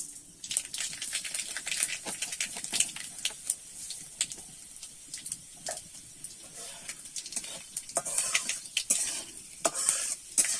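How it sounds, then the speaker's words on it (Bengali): Mustard seeds tempering in hot oil for shukto dal, a dense close crackle of small pops and sizzle with stirring scrapes, steady throughout. "এইভাবে কিন্তু ফোড়নটা একটু ভেজে নেব"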